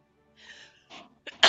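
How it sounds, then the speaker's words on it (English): A single sneeze, preceded by a couple of soft breathy intakes, bursts out sharply at the very end, close and fairly loud against otherwise quiet surroundings. "sneeze."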